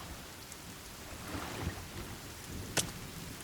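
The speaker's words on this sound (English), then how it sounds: "Oh, it's raining now" Rain in the video game The Forest: a soft, steady hiss of rainfall heard at a distance, faint and unbroken, with a brief sharper crackle near the end.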